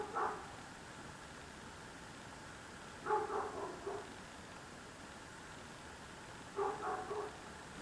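A dog barking outdoors at a distance, three short bursts of barks several seconds apart, faint over a steady background hiss.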